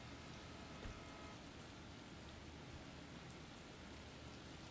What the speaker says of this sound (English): Rain. Sunny California. When's it gonna stop?